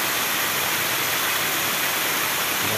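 River water rushes steadily past as discarded debris is swept toward the Cañaveralejo river, a dense, continuous broadband roar with no voices.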